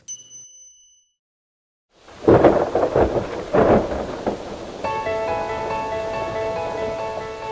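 After a moment of silence, thunder rumbles in heavy bursts over steady pouring rain, and a ringing, chime-like tone joins partway through.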